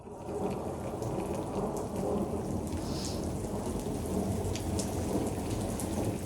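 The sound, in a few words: heavy rain with thunder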